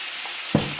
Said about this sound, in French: Et on le met dans la poêle.